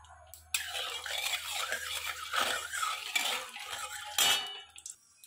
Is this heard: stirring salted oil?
yes